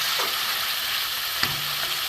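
Chicken masala frying in oil in a pan, a dense, even sizzle held close throughout, with a single brief clink of a spoon against the pan partway through.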